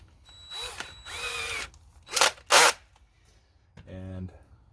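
A cordless drill fitted with a small wood drill bit whirs in two short, loud bursts, with quieter motor hum and a brief ratcheting click. A person talks between the bursts.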